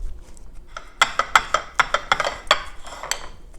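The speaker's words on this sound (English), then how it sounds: "We take 2 bananas and we mash them. And old school, mash them with a fork." A fork mashes two bananas in a bowl, giving a quick run of bright metallic clinks and taps against the bowl over soft squishing, close up, with no one speaking.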